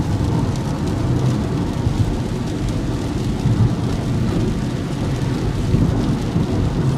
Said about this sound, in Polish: Ale niestety leje.